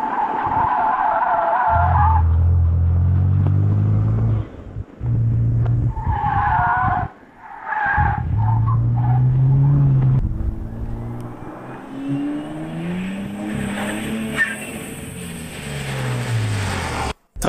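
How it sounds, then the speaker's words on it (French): Tires screech and squeal loudly as a modified Lamborghini Huracan drifts around a race track, engine revving beneath long sliding skids broken by short gaps, sustained and close throughout. "Il a fait crisser les pneus tout le long jusqu'à la première porte"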